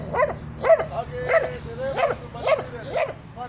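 A tethered dog in a residential settlement barks repeatedly, about seven sharp barks in a steady rhythm spaced roughly half a second apart, close and fairly loud over a low background hum.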